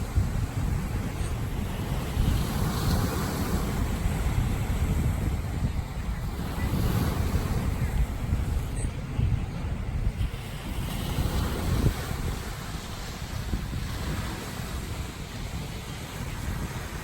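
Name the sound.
ocean waves breaking on a beach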